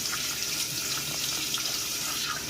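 A tap runs steadily at close range as water rinses charcoal kojic soap lather off skin. The flow is a constant, even rush that lasts throughout.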